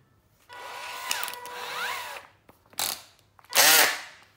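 A cordless power drill runs on its clutch slip setting: a whirring motor with rising and falling whine, then short bursts of ratcheting clutch clicks, loud and close with pauses between.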